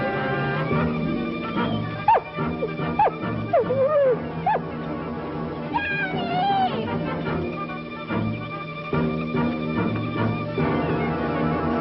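A dog yips and whimpers in short, rising cries and sharp barks scattered over a busy background of music and noise, fairly close and fairly loud.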